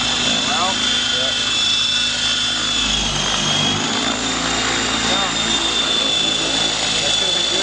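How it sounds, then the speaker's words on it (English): A helicopter flipping over and flying inverted, its engine and rotor making a loud, continuous roar with a steady high whine and a low throb throughout, filling the whole clip with no pauses. "a high-speed video clip of Carl flipping the helicopter over and flying inverted"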